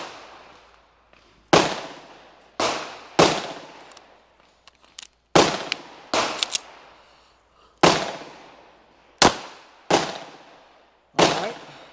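An LFA Apollo 11 handgun fires about ten loud, close pistol shots in an uneven rhythm, each a sharp crack with a ringing decay, with a few faint handling clicks between them.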